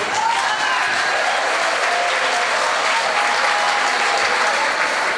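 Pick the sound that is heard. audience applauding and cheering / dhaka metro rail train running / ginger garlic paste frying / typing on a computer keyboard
audience applauding and cheering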